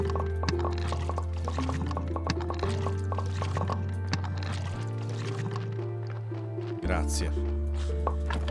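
Water filling in the graveyard-management game Graveyard Keeper, a steady liquid pour and splash running under continuous talk, with looping game music and tones in the background.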